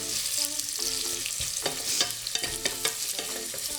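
Chopped onions and apple frying in a very hot pan, a steady bright sizzle with scattered sharp stirring clacks and scrapes, no voices.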